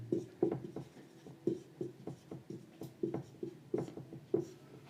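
A pen scratches across paper in quick, uneven strokes, writing out a math solution by hand with the close, faint rhythm of continuous handwriting, with no voices.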